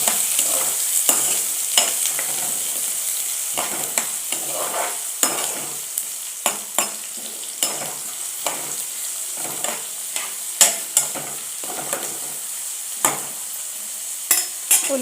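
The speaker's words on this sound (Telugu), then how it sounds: "ఇప్పుడు ఉల్లిపాయలు, పచ్చిమిరపకాయలు వేసుకుందాం. కలుపుకోవాలి ఒకసారి." Onions and green chillies sizzle in a hot pan while a spatula stirs them, giving a continuous frying hiss punctuated by repeated sharp scraping knocks against the pan, close and fairly loud.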